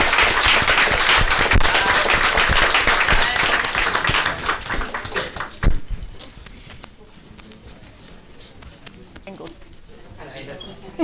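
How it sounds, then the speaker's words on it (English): Applause for student athletes at a school board meeting, dense clapping from a crowd indoors that gradually thins and fades by the midpoint, leaving quieter room sound with a few scattered claps. "Let's give them one more round of applause."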